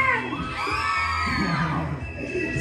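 A crowd of people yelling and whooping at a lively event in Tenancingo, with loud, continuous overlapping shouts and cheers throughout.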